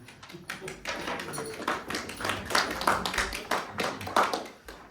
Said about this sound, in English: Round of applause, mate.